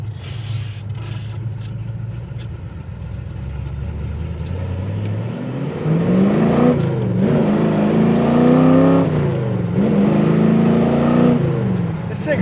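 A 500 hp 1969 Dodge Coronet R/T engine climbs from a low rumble into a loud, rising rev while driving, wavering up and down near the microphone as people talk over it.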